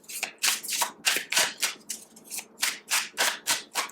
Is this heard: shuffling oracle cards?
yes